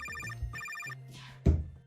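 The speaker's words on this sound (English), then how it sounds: "Oh wait, I'm getting a phone call from our CTO, Johan." An incoming phone call rings with a synthetic ringtone, two bursts of repeated electronic tones over a low hum, followed by a brief bump of handling noise.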